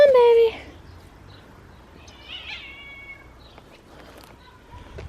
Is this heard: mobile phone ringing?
no